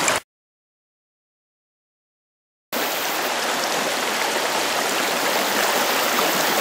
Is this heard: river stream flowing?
yes